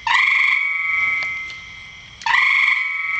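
A loud, nearby frog in a rain barrel gives two long, buzzing croaks separated by a brief pause, each call a sustained raspy trill.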